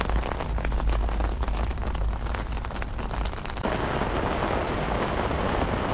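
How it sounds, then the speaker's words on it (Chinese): Rain falls steadily at night on a roadside campsite beside National Road 320 in Jiashan, Zhejiang, a dense close hiss of drops that continues without a break. "下雨了，下雨了，天。"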